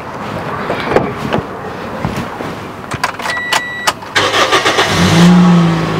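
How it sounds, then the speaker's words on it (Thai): A 2014 Toyota Vios, an automatic E model on its original engine, is started: keys rattle and click, the starter cranks briefly, and the engine catches into a steady idle, loud and close. "เดี๋ยวผมสตาร์ทเครื่องดูดีกว่า"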